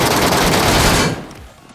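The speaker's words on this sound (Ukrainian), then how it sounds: "Там с далека стріляє чи хтось" Loud, dense automatic gunfire in the battle royale game PUBG Mobile, a rapid close burst lasting about a second before tailing off and fading out.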